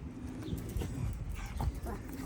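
A small dog's yaps and whimpers, brief and fairly close, sound over a noisy outdoor background at a bird keeper's place.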